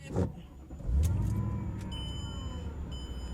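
Mercedes E55 engine starting up, a brief cranking whir followed by a low idle that settles into a steady hum, with faint electronic beeps from a data logger gauge.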